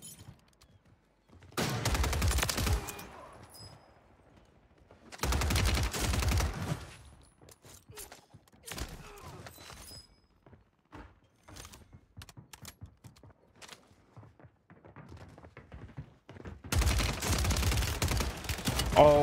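STG 44 assault rifle fire in Warzone 3 as the gas closes in: loud bursts of rapid automatic shots in three main volleys, with scattered single cracks and quieter pops between them.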